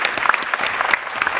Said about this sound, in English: So give Australia a huge round of applause for that.